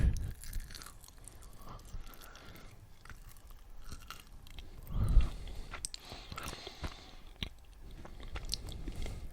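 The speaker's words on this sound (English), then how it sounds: "That's a good cracker." Close, intimate chewing of a crunchy cracker, with wet bites and crisp crunches repeating irregularly and a louder crunch partway through, no talking.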